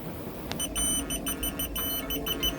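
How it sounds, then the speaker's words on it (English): A Paneceia meat thermometer's timer alarm beeps in rapid repeated bursts, fairly faint and close, with no talking. "So that's the alarm to let us know that 5 minutes have gone by."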